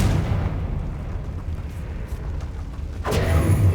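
Deep rumbling blast from Bombarda and Confringo spells in Hogwarts Legacy, a sustained low roar followed by a sharp, loud explosive burst near the end.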